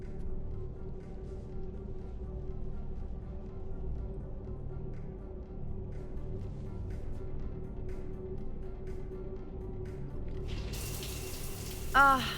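Steady running shower water in the game Mass Effect 3, a continuous even hiss at moderate level that turns brighter near the end.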